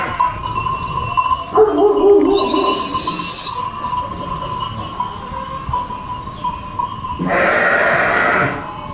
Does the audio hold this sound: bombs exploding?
no